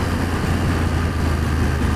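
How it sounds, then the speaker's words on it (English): A BMW F750GS motorcycle fitted with an Akrapovic exhaust, its engine running with a steady, close low rumble and throb throughout the two seconds, no voices present. "I bet this one's got the Akrapovic exhaust on it."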